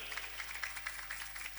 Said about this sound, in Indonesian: Tepuk tangan heula tuh.